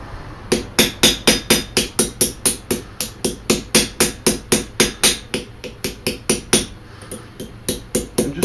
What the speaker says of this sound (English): And just keep hammering until you've got that fully closed.